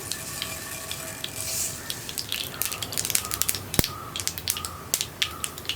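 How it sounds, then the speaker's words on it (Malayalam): A teaspoon of mustard seeds spits and pops in hot coconut oil under a soft sizzle. The sharp crackles start sparse and grow into quick, close bursts, with no speech. "നമുക്കിതിലേക്ക് 1 ടീസ്പൂൺ കടുക് ചേർത്ത് കൊടുക്കാം"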